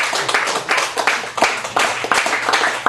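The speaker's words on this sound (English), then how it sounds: "When I say thank you to somebody, y'all clap." Live audience at a poetry feature in a Chicago café gallery claps in uneven bursts, close and fairly loud, with the clapping thinning and swelling over a few seconds.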